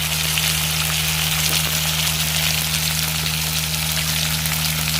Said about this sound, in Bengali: মাছের তেলেই অল্প করে পেঁয়াজ দিয়ে দিলাম